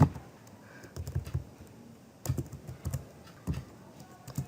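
Fingers type code into a BASIC-256 program on a computer keyboard, giving a soft, close, irregular clatter of keystrokes that comes in short bursts with small pauses between them.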